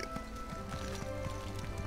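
Horse hooves in The Elder Scrolls Online, Summerset, from a fire-trunk horse following along, a quick rhythmic clip-clop of steady footfalls over a soft musical background.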